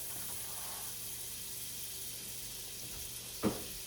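About two tablespoons of butter sizzle in a pan with a faint, steady hiss, soft and continuous, broken by a single brief clatter near the end.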